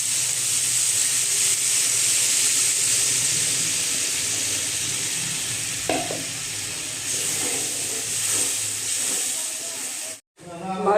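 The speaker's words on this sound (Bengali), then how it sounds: "এখন দিয়ে দিচ্ছি জল" Water poured into hot spiced oil in a pan for a light tomato fish curry, a loud steady sizzling hiss rising in bursts and rolling on for several seconds, with a brief pause near the end.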